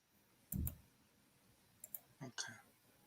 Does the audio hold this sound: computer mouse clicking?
yes